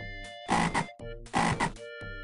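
Cartoon frog croaking in a Barney adventure video game, two loud, buzzy ribbit calls separated by a short pause over a steady musical backdrop.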